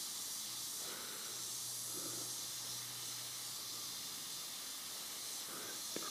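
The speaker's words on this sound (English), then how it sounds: "just sort of cracking on airbrushing" An airbrush sprays paint with a continuous, soft, steady hiss close by, barely changing in level and with no voices over it.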